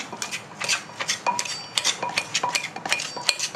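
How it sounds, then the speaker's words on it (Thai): A pestle pounds som tam papaya salad in a mortar, giving a quick, uneven run of sharp clacking knocks, close and clear, with no talk. "ช่วงนี้เราก็จะต้อง ตำนะคะ"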